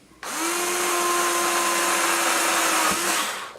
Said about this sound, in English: this is the hole that we're drilling here